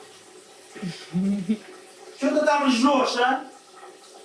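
Water sprays from a handheld bidet hose in a bathroom in Sri Lanka, a hissing gush rising in two bursts while people talk close by.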